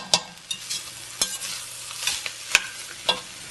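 Vegetables for soup frying in oil in a pot, a soft steady sizzle broken by repeated clinks and scrapes of a utensil stirring, close and unhurried, no voices.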